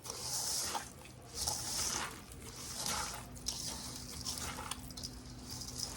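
Meat, rice and egg filling for cabbage rolls being stirred by hand in a bowl, giving soft wet squishing and slapping in irregular bursts, close and moderately loud, no talking.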